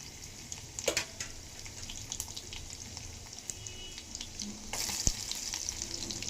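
Urad dal, chana dal, mustard seeds, cumin and chopped garlic fry in hot oil, a steady crackling sizzle with occasional sharper pops and scraping stirs, close and fairly quiet throughout.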